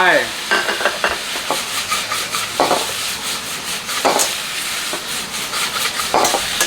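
Squid and holy basil are stir-fried dry in a hot pan, with a spatula scraping and stirring in repeated strokes over a steady close sizzle, with no talking.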